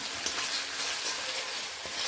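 Spice masala with turmeric sizzles steadily while being stirred in a pan for a paneer curry, a dense continuous hiss with a few soft scraping stirs, close and alone.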